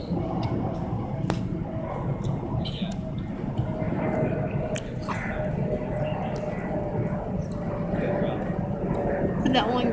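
An airplane passes overhead near an airport flight path, producing a continuous distant rumble and broad roar that holds steady for about ten seconds, with faint scattered outdoor sounds and no talking.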